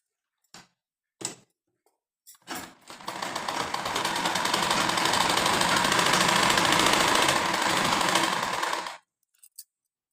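Sewing machine stitching a border strip onto a blouse, a few short starts followed by a steady, close, fast-running mechanical whir for about six seconds before stopping, with no talking.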